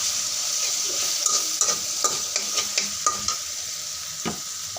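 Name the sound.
frying cumin seeds in a pan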